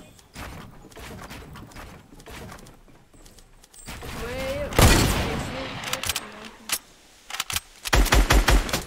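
Gunfire in a shooter video game, rapid bursts of automatic fire crackling in irregular runs, with a voice talking over parts of it and a sharp cluster of loud shots near the end.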